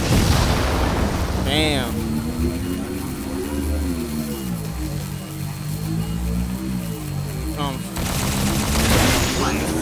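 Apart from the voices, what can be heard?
gunfire in the video game Halo 4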